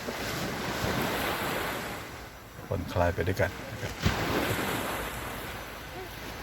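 Sea waves washing onto the shore at Sai Kaew beach, a continuous soft roar with wind buffeting the microphone, and someone speaking briefly over it partway through.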